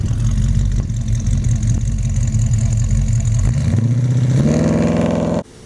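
A Plymouth Duster on drag radials sits rumbling loudly at idle, then its engine note climbs sharply as it launches on asphalt, followed by an abrupt cutoff near the end.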